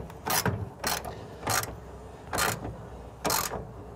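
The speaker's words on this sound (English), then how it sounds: "we're gonna tighten the top bolt that goes down into that stake pocket" A wrench ratchets as it tightens the top bolt of a truck headache rack into a stake pocket, five short bursts of clicking spaced evenly with pauses between, close and clear.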